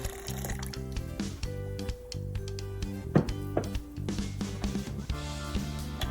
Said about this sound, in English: Add 1 cup of boiling water.